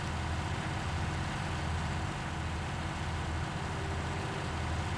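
A tractor engine in Farming Simulator 19 drones steadily and loudly throughout, a continuous low rumble with no pauses and no voices.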